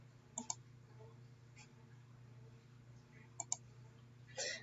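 Computer mouse clicks while erasing lines in SketchUp, two quick pairs of crisp clicks separated by a pause, close and quiet over a low steady hum, then a brief rustle at the end.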